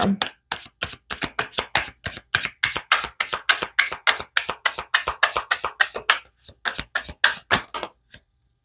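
Tarot cards are shuffled by hand in a long run of crisp, rapid riffles and slaps, about twenty sharp close-up bursts in a steady rhythm, alone without talk.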